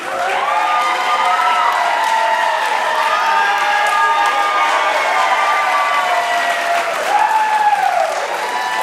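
A dense wrestling arena crowd at a live event claps and cheers continuously, with shouts and whoops rising over the sustained roar to rally a wrestler. The din stays loud throughout.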